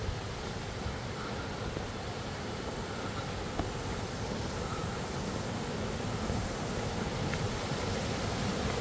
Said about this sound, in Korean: 물소리가 너무 좋아요.